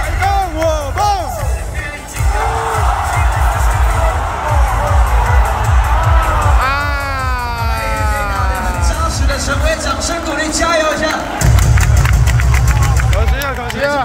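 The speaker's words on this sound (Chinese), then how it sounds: "陈威，掌声鼓励，加油一下！" Crowd cheering at a Chinese Taipei versus Czech Republic warm-up baseball game in the Taipei Dome, a dense roar of fans with amplified chants, rhythmic claps and a loud announcer or cheer leader over it.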